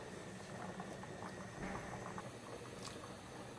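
Rice cooking for tomato rice bubbles in a pot with a steady low boil, a continuous soft bubbling and patter alone at moderate level throughout.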